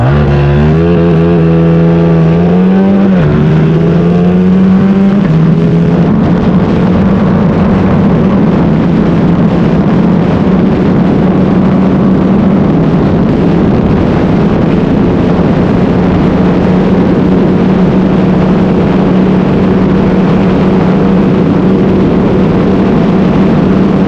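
A Yamaha LC 5S motorcycle with an FCR carburetor revs up at first, the pitch climbing and dropping, then settles into a steady loud buzzing cruise with rushing wind noise as it rides on for over twenty seconds.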